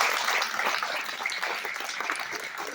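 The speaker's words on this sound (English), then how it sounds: "Let's give a big round of applause for Bonk." A crowd applauding steadily and fairly loud, a dense patter of clapping hands that carries through the whole moment without fading.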